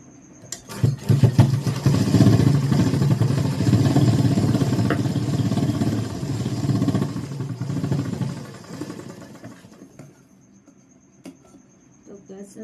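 A sewing machine stitching a Rajasthani kanchli blouse hums in a continuous low mechanical whir for several seconds, then fades away; faint talk may sit beneath it.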